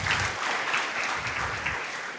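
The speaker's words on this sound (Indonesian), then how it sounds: "Yang mau berbuah lebat berikan tepuk tangan meriah buat Tuhan kita." A church congregation applauds during a worship service, a dense wash of many hands clapping at moderate volume, steady throughout.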